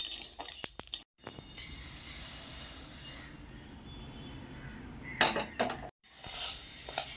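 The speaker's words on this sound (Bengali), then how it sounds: "বাকি চাল একইভাবে ভেজে নেব। চাল বন্ধুরা এভাবে ঘন ঘন নেড়ে রাখতে হবে" Rice dry-roasting in a pan, stirred often with a utensil: a bright continuous rattle and scrape of grains against metal, broken by two short pauses and a few louder knocks.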